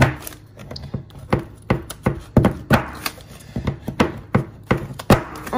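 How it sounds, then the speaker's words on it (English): Sharp, rhythmic knife strikes on a cutting board as 4 ounces of baking chocolate is chopped, about a dozen uneven chops close to the mic with no talking. "I have finished chopping up my chocolate"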